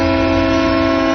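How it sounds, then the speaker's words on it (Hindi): A loud, sustained train whistle blows as one steady, harmonically rich tone at close range with no voices over it. "ट्रेन की सीटी"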